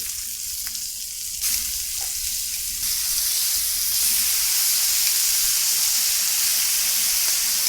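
Year-old steaks sear in a hot pan just after flipping, a loud, constant close-up sizzle and hiss that swells and holds steady throughout, with no voices.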